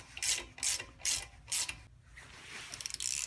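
Bolts being threaded into a Honda brake rotor to push it off the hub, heard as four quick ratcheting bursts in a steady rhythm followed by lighter clicking, close and fairly quiet.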